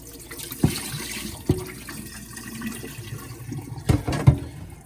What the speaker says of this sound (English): Rinse them a couple times. There's so much starch on them.